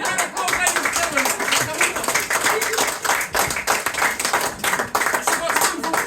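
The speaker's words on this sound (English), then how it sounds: "Get Madeline a big round of applause, ladies and gentlemen" A small theatre audience at a mentalism show claps loudly and steadily throughout, close and dense, with some speech mixed in underneath.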